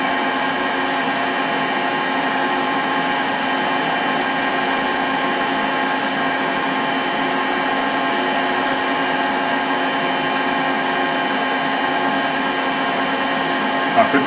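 A drill bores into a metal workpiece under light pressure, giving a steady, whining machine hum with constant tonal overtones that holds unbroken and fairly loud throughout.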